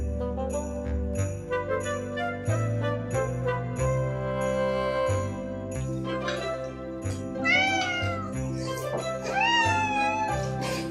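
A cat meows several times, rising, wavering cries set against steady music that plays throughout; the meows stand out clearly in the second half.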